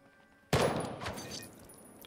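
A single loud gunshot in the video game Jagged Alliance 3 cracks sharply out of near silence and then trails off in a decaying rumble and debris clatter over a second or so.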